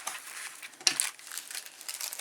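Plastic packaging of a wolf-and-dreamcatcher cross-stitch kit crinkles in short bursts during unboxing, fairly close, with a sharper rustle near the middle and no talking.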